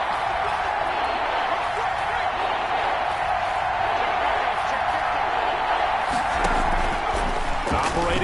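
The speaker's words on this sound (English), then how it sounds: "Here comes a big one as this crowd gets up making some noise" Stadium crowd at a Giants vs Bears football game, a steady loud roar of cheering and noise sustained throughout, with scattered claps and shouts swelling near the end.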